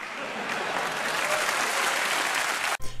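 A crowd applauds steadily for nearly three seconds, dense and even, before cutting off abruptly.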